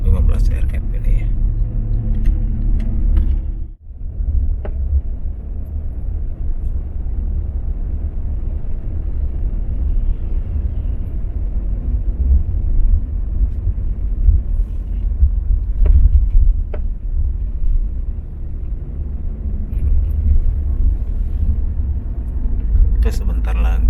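Steady low rumble inside a Sinar Jaya Suite Class sleeper Jetbus 5 cruising on the road between Bogor and Solo, continuous and close, with a brief dropout early and occasional rattles.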